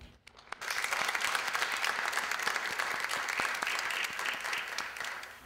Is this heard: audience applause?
yes